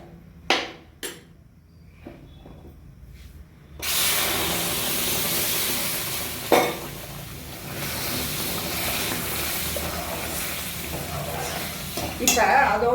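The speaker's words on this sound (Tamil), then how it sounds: "இப்போ நம்ம இந்த பாசிப்பருப்பு தண்ணியை அதில் சேர்க்கணும்" Moong dal water poured into a hot pan on the stove for rava pongal, a sudden loud hissing sizzle that settles into a steady simmering rush with stirring scrapes, following a few soft clinks.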